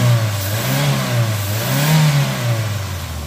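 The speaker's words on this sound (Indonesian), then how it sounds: "Ini saya coba gas ya." A car engine revs up and down under throttle just after being jump-started from a drained battery, a steady close mid-pitched drone rising and falling twice without a break.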